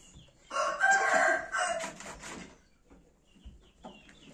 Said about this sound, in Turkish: Evet, artık yavaş yavaş horozlanıyorlar bunlar.